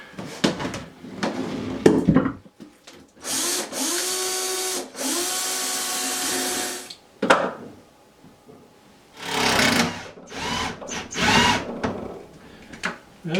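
A power drill whirs in several bursts, driving a screw into a wall at stud locations, with short pauses and clattering handling sounds between runs; close and fairly loud.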